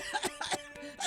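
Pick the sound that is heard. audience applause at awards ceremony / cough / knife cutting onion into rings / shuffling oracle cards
cough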